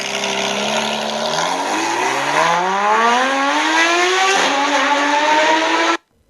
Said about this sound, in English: Then Batman puts it in drive and floors it out.